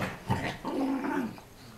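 A chihuahua growls during play fighting with a pit bull, giving a short, fairly faint, rumbling growl with a small yip at the start, close by and without talk.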